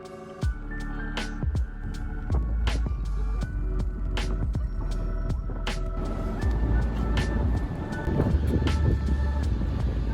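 Trains at Hudson Yards in New York, a steady low rumbling hum with throbbing under repeated sharp metallic clanks and clicks, moderately distant and continuous.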